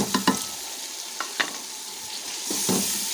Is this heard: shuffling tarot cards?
no